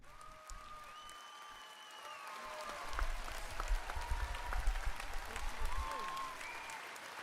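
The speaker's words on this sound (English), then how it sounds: "Let's give a little round of applause to our dear Patrick." Crowd applause with scattered cheers from a live audience, building from moderate clapping to a fuller, denser round before easing slightly, with faint voices mixed in.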